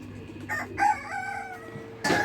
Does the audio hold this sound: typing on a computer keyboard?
no